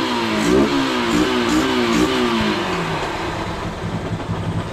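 Motorcycle engine fitted with a new Nibbi 28mm racing carburetor, revved up and down in quick swells before settling toward idle, close and loud with a raspy exhaust tone.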